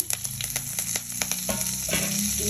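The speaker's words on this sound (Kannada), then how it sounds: "ಬೆಳ್ಳುಳ್ಳಿ ಇದ್ದೀನಿ ಹಾಗೆಯೇ ಕರಿಬೇವಿನ ಸೊಪ್ಪು ಹಾಕ್ತಾಯಿದ್ದೀನಿ" Garlic and curry leaves crackle and sizzle in hot oil for red chutney tempering, a steady close frying hiss with sharp spitting pops and a few stirring clacks, with no voices.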